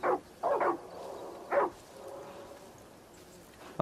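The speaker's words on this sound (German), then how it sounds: "der Hund dreht sich auch alle 5 Meter um, bellt den Vielfraß einmal an." In the video game Far Cry 5, a dog barks at a wolverine: a few short, sharp barks in quick succession, then one more after a pause, fairly faint over a quiet outdoor background.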